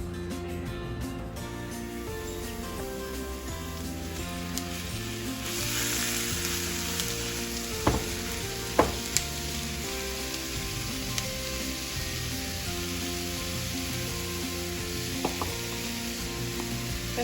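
Onion and garlic fry in a pan for lasagna filling, a loud steady sizzle with a few sharp clicks of a utensil against the pan, close and continuous.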